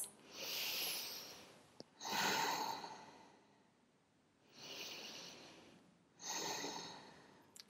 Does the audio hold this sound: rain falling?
no